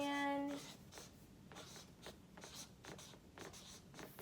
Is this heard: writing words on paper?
yes